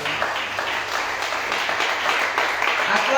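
A church congregation at a Tuesday worship service applauds and cheers to acclaim the Lord, a steady wash of many clapping hands and raised voices filling the room throughout.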